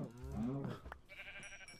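A single short bleat from a sheep in a video game, faint and close, followed by soft game chimes with no talk.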